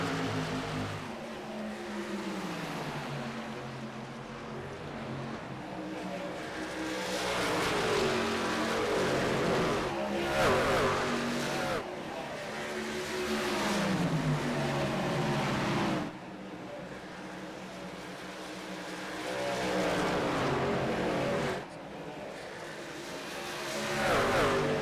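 Race trucks roar through a NASCAR Truck Series race at Dover, engines revving and shifting in repeated rising sweeps, loud and close as if from in the cab, with brief drops in level between pulls.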